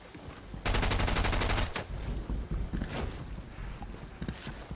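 Fortnite video game gunfire, a loud rapid automatic burst lasting about a second, followed by a single shot and scattered softer pops and footstep-like thumps, with no talk.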